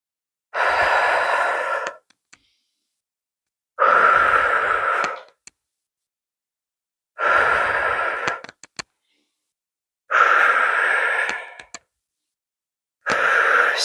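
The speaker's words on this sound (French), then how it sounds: "Sur l'expire, je souffle par la bouche." Five long, steady exhales blown out through the mouth during a yoga-barre workout, each lasting about a second and a half and separated by quiet pauses, close and breathy with no talking.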